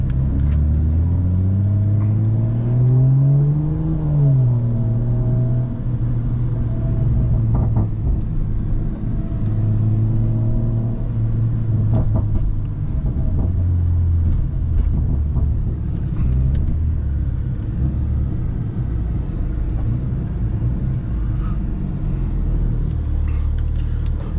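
A tuned BMW M340I engine of about 700 wheel horsepower idles with a deep, steady rumble, then revs up and settles back, loud and close throughout.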